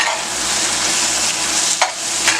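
Vegetables fry in butter and olive oil in a hot pan, a loud, continuous sizzle close up, with two brief scraping strokes of a stirring utensil near the end.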